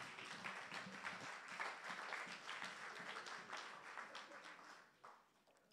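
A church congregation applauding and clapping together during a worship service honoring the Lord, sustained dense applause at moderate loudness that thins out and fades near the end.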